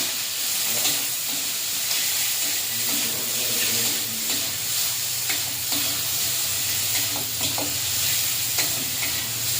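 Prawns and onion fry in a pan with five-spice seeds, a loud continuous sizzle and hiss with occasional clinks of a stirring spoon against the metal.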